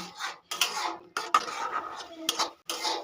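Spice paste with a splash of water being stirred and fried over medium flame for a jackfruit kalia, a spatula scraping and clinking against the pan in several short, close strokes with brief pauses between them.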